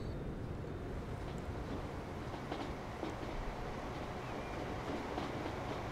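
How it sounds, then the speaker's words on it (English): A Shinkansen bullet train runs in Transport Fever 2, giving a steady low rumble with a faint whooshing wash that holds at an even level throughout, with no voices over it. "This is one happy Shinkansen."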